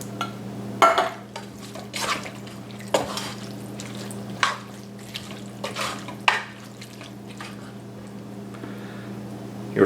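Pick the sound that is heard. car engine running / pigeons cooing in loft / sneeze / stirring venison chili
stirring venison chili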